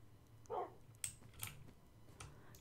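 A dog in the Minecraft game gives one short bark, close and clear, followed by a few light clicking taps with no talking.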